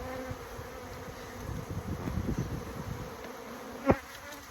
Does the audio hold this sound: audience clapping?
no